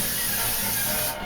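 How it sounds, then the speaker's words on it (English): A quick, steady hiss of cooking spray coating a 2-quart casserole pan, one continuous burst at close range, cutting off sharply at the end. "Okay, quick spray."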